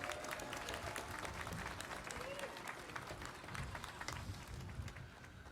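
An outdoor crowd at a streetcar ribbon-cutting ceremony claps steadily for several seconds, a dense wash of applause with a few voices faintly mixed in.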